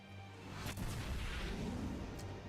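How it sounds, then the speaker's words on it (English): An explosion in the Fate Grand Order video game: a booming blast with a rolling, rumbling tail, fairly loud and sustained, with no speech over it. "An explosion."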